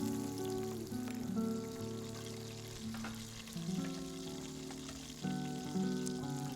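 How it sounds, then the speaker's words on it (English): Pork belly frying in a pan with a sprinkle of brown sugar caramelizing, a steady close sizzle and crackle with faint stirring, no voices. "Return the pork belly to the pan and sprinkle over a tablespoon of brown sugar, allowing it to caramelize lightly"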